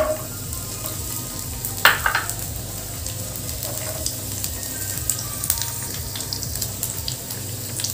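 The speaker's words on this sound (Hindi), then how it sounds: "पहले हम काजू को फ्राई करके लेंगे।" Cashews fry in ghee in a pan, giving a steady close sizzle with a brief clatter near the start and some watery hiss running underneath.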